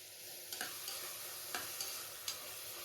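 Tomatoes fry with coriander and mint in a pan for chicken biryani, giving a steady close sizzle broken by a few sharp spoon scrapes and taps as the mixture is stirred.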